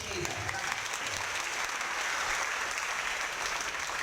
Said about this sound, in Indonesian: Tepuk tangan buat Doni.